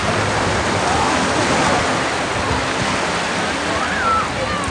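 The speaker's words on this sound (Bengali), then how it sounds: "এক একটা ঢেউ এসে আছড়ে পড়ছে ঠিক পাড়ের ওপর" Sea waves wash and break onto the shore at Bakkhali beach, a steady broadband rush of surf heard close by without pause, with no talk over it.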